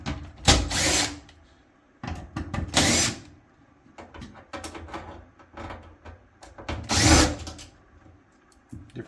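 A power drill backs screws out of the front panel of a Samsung dryer. Several close, loud whirring bursts of about a second each come with short pauses and small clicks in between. No one talks.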